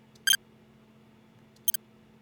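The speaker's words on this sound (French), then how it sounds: "Computer data ou bip" Two short electronic computer-data beeps, clipped and bright, sound about a second and a half apart against a faint steady hum.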